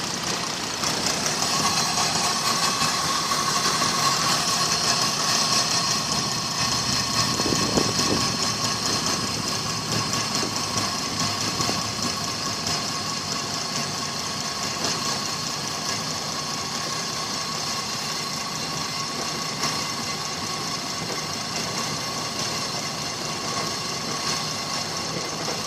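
A 2000 Toyota Avalon engine idles roughly, running lean and close to stalling. A steady, moderately loud mechanical hum with a wavering undertone goes on throughout, heard close up and without speech.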